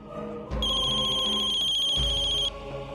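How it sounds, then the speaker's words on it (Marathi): A phone ringtone plays one electronic ringing phrase of steady, pulsing tones for about two seconds over quiet room sound. "गौरीचा फोन."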